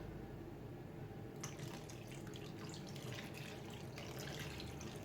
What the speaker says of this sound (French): je vais rajouter un tout petit peu d'eau